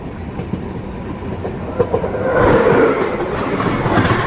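Train rumbling along the rails, a low steady roar with faint rhythmic clacks that grows louder partway through.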